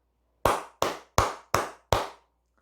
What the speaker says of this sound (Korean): 우리 모두 크게 박수 한번 치고